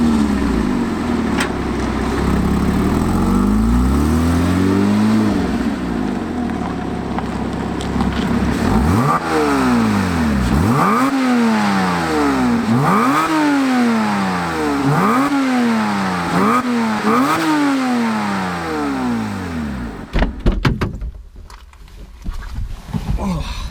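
A Porsche 987 Boxster S on the road, its engine rising and falling through repeated revving sweeps and gear changes, loud and close from inside the car, ending in a sudden drop.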